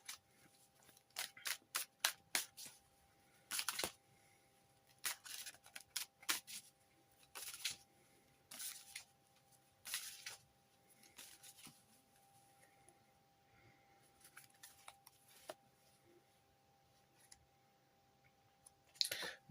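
Ghost Tarot cards being shuffled and picked out, crisp separate card flicks and taps coming in scattered bursts, quiet and close with no voices.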